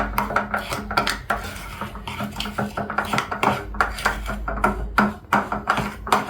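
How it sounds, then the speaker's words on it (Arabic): A spoon stirs powdered milk and ground sugar together in a bowl, making quick, repeated clinks and scrapes in an uneven rhythm, close and clear with no talking. "تعال عندي شوي نقلبهم مع بعض"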